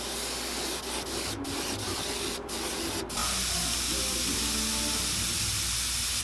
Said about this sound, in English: I'm still spraying into the air.